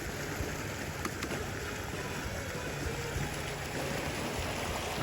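Creek floodwater rushes steadily over a washed-out farm road, a continuous broadband roar of flowing water close by with no talk.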